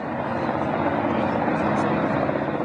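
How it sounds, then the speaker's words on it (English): Marine One, the presidential helicopter, on the lawn at the Chateau Montebello in rural Quebec, a loud, close, steady rotor thrum and engine whine. "Marine One, the presidential helicopter, out on the lawn at the Chateau Montebello in rural Quebec"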